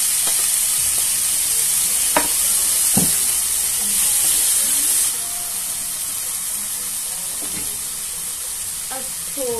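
Garlic paste and sangri fry together in a spiced pan, a loud steady sizzle broken by several sharp stirring scrapes, the hiss dropping noticeably halfway through, heard up close.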